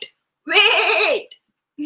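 A person imitates a goat's bleat with a drawn-out, wavering nasal "meh" lasting nearly a second, clear and close, with brief bits of speech just before and after.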